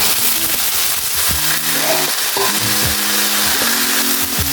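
Soya chunks sizzling and crackling as they are roasted in hot oil in a pan, a steady bright frying hiss with scraping stir sounds, no talk.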